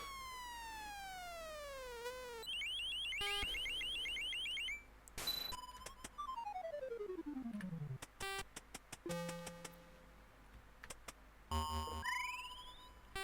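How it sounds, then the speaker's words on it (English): Commodore 64 game Ultimate Wizard producing chiptune jewel-collecting noises: rising and falling synthetic sweeps, beeps and rapid blips in quick succession, clear and alone without speech. "every jewel makes noise whenever you collect them"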